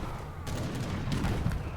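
Cannon volleys in a strategy game battle: several loud overlapping blasts and thuds crowd into under two seconds, steady and fairly close, amid ongoing combat noise.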